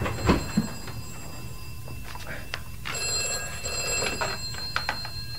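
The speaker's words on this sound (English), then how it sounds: "That's the vestry phone." The vestry telephone in a church rings in short, repeated bursts of bright trilling bells, fairly near in a quiet room, with a few knocks and small movement sounds between the rings.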